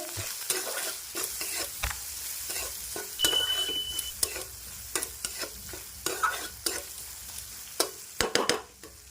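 Fenugreek-leaf curry with turmeric and salt being stirred in a sizzling pan: irregular scraping and clacking strokes over a steady frying crackle, close and fairly loud, with no voices.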